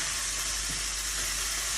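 A loud, dense, unbroken sizzle of chicken frying in a pan for Thai pad kra pao, close up and steady throughout.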